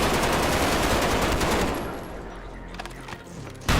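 Gunfire in the video game Underyella, a dense loud stream of rapid shots that thins into scattered bursts and then ends abruptly.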